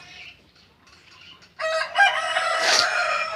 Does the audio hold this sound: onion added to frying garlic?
no